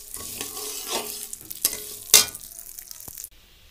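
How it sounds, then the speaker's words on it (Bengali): Lentils fry in hot oil until reddish, with a steady sizzle broken by stirring scrapes and a sharp clatter near the pan before the sound stops abruptly. "আমি ডালটা ভেজে নেব তেলের উপরে লাল লাল করে"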